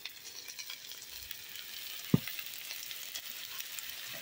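Ginger paste hitting hot oil with browned onions in a pan, giving a steady, fairly quiet frying sizzle with one sharp clank or stir midway; no talking.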